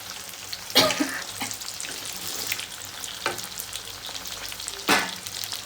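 Yogurt-marinated chicken fries in a pan with a steady low sizzle, broken by a few loud, bright bursts of spattering and stirring that stand out close by.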